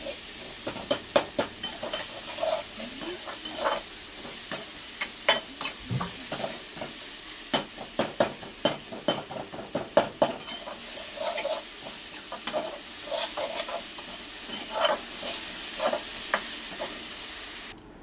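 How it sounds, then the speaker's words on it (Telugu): Tomatoes fry in a pan for a garlic tamarind curry, giving a steady, close hissing sizzle punctuated by frequent sharp clicks and scrapes of a spoon stirring against the metal, with no talking. "ఇప్పుడు టమాటా కూడా మొత్తం వేగిపోయింది."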